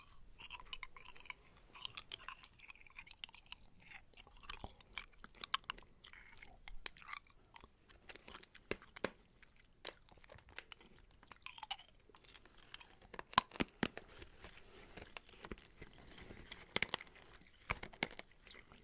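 Close, wet chewing of crunchy candy with scattered sharp crunches and crackles, irregular bites spread across the whole stretch, no voices.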